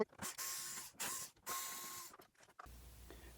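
A power tool whirs in short repeated bursts, stopping and starting, as it backs the screws out of a car's license plate. The sound is close and mechanical, with no talking.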